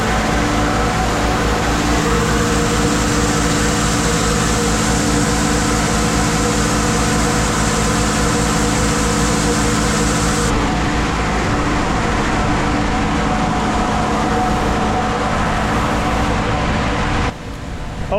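A tractor engine runs steadily with a fan going during a corn harvest, a loud continuous mechanical drone that persists alone throughout, with a brief drop near the end.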